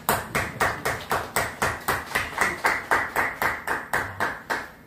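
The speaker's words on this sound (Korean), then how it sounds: "박수 한번 쳐야 되겠습니다." A church congregation claps in a brisk, even rhythm, about four claps a second, a dense, roomy sound that continues steadily with no talking.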